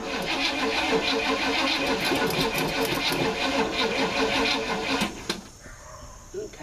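An old car engine cold starting with a dense, steady mechanical clatter and whir close by that cuts off abruptly near the end, with brief speech.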